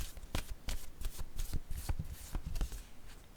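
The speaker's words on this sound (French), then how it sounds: "je vais piger une carte sur l'infirmière" Cards riffle and slide in a brisk shuffle before one is drawn, a close papery flutter of quick snaps and swishes lasting a few seconds without speech.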